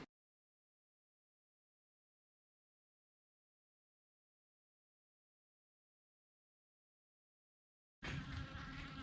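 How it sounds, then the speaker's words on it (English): A bee buzzes close by in a steady drone beside a blacksmith's forge, arriving abruptly after a long silence and holding loud for the last second of the clip. "Is that a bee or is that a Chinese spy drone?"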